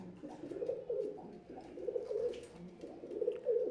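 Imported breeder Teddy pigeons, all females, coo steadily in low, throaty rolling phrases that repeat one after another and sit close and clear throughout.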